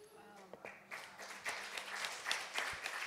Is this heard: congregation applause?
yes